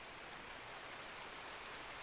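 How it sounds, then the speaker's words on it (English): Heavy rain pours steadily in Escape From Tarkov, a dense, even hiss that fills everything with no breaks and no other sounds standing out. "This rain is making it very difficult to hear."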